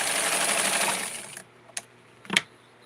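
Sewing machine stitching stretchy silver metallic doll fabric, a fast buzzing run for over a second that stops, followed by a couple of short mechanical clicks in quiet.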